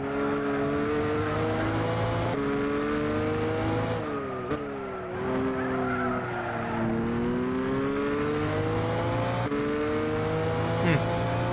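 On a race track, a car's engine climbs steadily through the gears as it accelerates toward high speed, with clear gear-change breaks and a dip as it brakes, then builds again; loud and close throughout.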